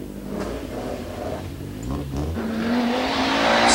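An Audi Quattro rally car at full effort on a narrow tarmac stage of the 1984 Donegal Rally, its engine snarling and growing steadily louder as it closes in, with a faint tyre squeal.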